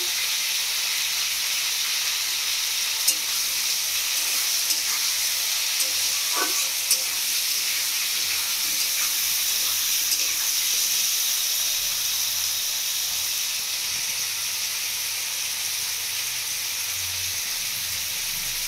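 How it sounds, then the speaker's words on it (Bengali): Raw green banana and potato fry in a pan with a steady, loud, even sizzle and hiss that continues unbroken throughout, with a few faint stirring clicks and no talk. "এবারে আমি 2-3 মিনিট মতো কাঁচা কলা আলু ভালো করে একটু ভেজে নেব।"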